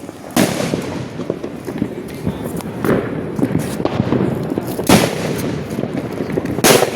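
Diwali firecrackers burst in a loud, crowded outdoor celebration, sharp bangs repeating irregularly over a continuous crackle, with the biggest blasts standing out near the start, middle and end.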